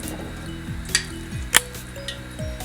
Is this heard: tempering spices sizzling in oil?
yes